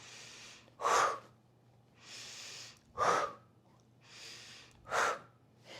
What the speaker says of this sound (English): We do a small inhale.